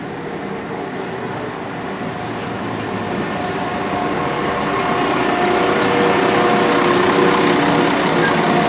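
A low, steady diesel engine rumble of a video-game train gradually builds in loudness as it pulls away from Kidderminster station, with faint mechanical whine and no voices.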